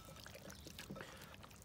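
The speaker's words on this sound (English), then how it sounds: "we're just going to pour a pretty good amount for our marinade" Vinegar-based sauce poured as a marinade over chicken wings for smoking on a Weber kettle, a steady, faint liquid trickle and splash running continuously with no talking.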